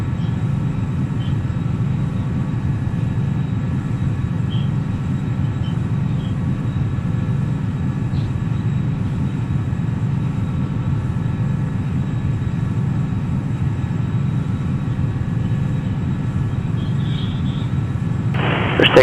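A Challenger 300 jet taking off in the X-Plane 11 flight simulator, a steady loud low engine roar that holds evenly throughout with no breaks.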